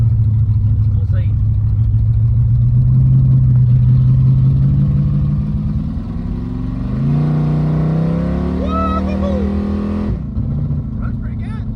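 A car with a Coyote engine runs on a short drive, a loud, close, steady engine drone that climbs in pitch as it accelerates partway through and then settles, with someone talking over it.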